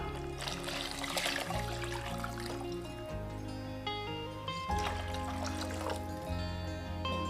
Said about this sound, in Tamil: ரசத்துக்கு தேவையான அளவுக்கு தண்ணி சேர்த்திக்கலாம்